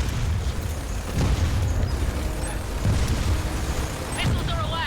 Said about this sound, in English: Missiles are away.